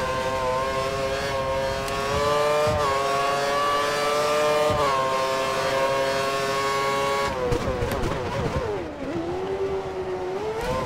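A Formula 1 race car in F1 2013 on the Australia qualifying circuit screams at high revs, its steady engine whine shifting pitch through gear changes and dipping under braking for a corner, loud and continuous.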